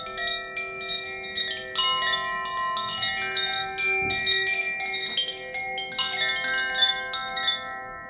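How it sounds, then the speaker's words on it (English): Metal Koshi wind chimes ring close up in clustered, overlapping tones playing a scale, sustained resonant notes shimmering and layering as they strike again and again. "So these are Koshi wind chimes"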